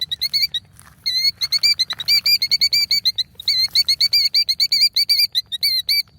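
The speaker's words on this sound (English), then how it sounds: "Check out these killdeer birds." Killdeer birds calling near their nest beside an old 1982 Ford F-150, a rapid series of loud, shrill repeated piping calls over a low rumble outdoors.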